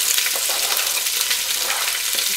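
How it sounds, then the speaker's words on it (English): Onions and garlic sizzle in a hot pan for tomato soup, a dense, steady crackle with faint stirring scrapes, close and loud with no voices. "You can hear it crackling in there"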